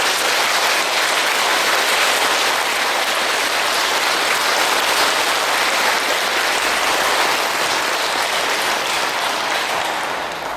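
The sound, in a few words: audience applause in church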